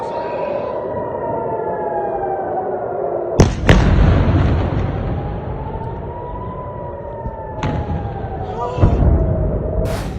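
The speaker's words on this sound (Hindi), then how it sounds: "सायरन बज रहे हैं," A wailing air raid siren rises and falls steadily over Tel Aviv during a Houthi attack from Yemen, while several loud, heavy explosions break through, one after another.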